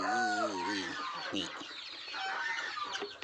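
Chickens clucking nearby at an egg-laying spot in the morning, several rising and falling calls in a quiet setting.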